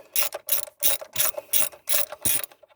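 Ratchet wrench clicking while tightening on the engine of a 2002 Jeep Liberty 3.7-liter V6, seven quick close bursts of rapid pawl clicks in a steady back-and-forth rhythm, loud and alone without talk.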